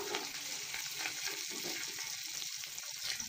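Tomato hitting hot oil tempered with cumin seeds in a pan, a faint, steady hissing sizzle with soft crackle running evenly through the short stretch.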